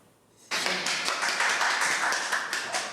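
Applause in a hospital rehabilitation room as a wounded soldier rises from his wheelchair, a sudden burst of dense clapping from a small group nearby that continues steadily for a few seconds.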